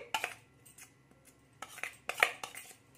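Semolina batter mixed with fried carrot and green chilli is stirred in a bowl with a spoon, giving quiet scraping and a few sharp clinks of metal against the bowl in irregular bursts, close and with no talk.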